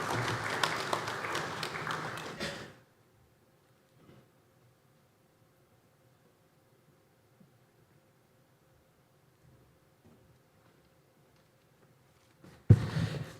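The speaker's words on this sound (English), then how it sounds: "A warm round of applause for Mr. Eves and also Carla Lorio" An audience at an aviation week conference applauds warmly for about two and a half seconds, then falls to near silence before clapping starts again at the end.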